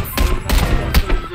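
Gunfire in the video game PUBG: a rapid burst of several loud, close shots in quick succession, cracking sharply over a background of game noise.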